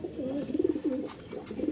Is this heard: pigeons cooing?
yes